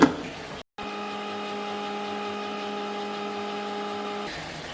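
A kitchen mixer grinder whips homemade mayonnaise with sunflower oil, starting after a brief click and gap, then holding a steady, close, high motor whine for several seconds before it stops.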